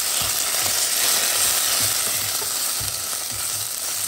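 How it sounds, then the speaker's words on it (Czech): Tomato paste sizzles and fries in a pan over moderate heat, a close, loud, continuous crackling hiss broken by soft stirring scrapes, with no talking. "To trochu rajského protlaku a zase zarestovat."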